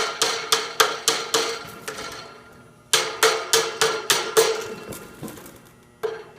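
Hammer strikes on a plastic part come in two quick bursts of sharp, close knocks separated by a brief pause, then one final blow, with no voices.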